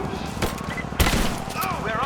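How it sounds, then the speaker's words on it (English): Video game gunfire in a firefight at the edge of a village, with a shotgun in play: loud, steady sharp bursts over a busy background, one heavy blast standing out, with voices talking underneath. "We're under fire at the edge of the village."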